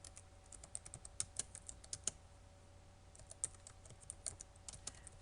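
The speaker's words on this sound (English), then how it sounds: "What I do is I type the comment" Quick, light keystrokes on a computer keyboard while writing C++ code, clicking in irregular bursts with short pauses, close and fairly faint over a low hum.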